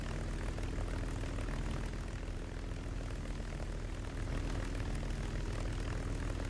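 A P-51 Mustang's propeller engine drones loud and steady throughout, a continuous rumbling aircraft roar from War Thunder gameplay with no talk over it.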